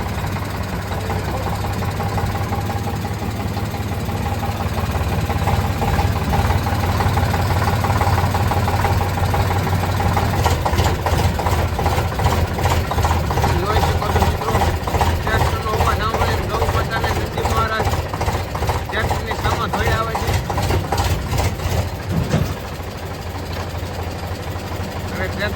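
A tractor engine idles steadily near cattle on a farm, a continuous mid-pitched chugging drone with a rapid rattling pulse in the middle stretch, heard alongside faint background voices.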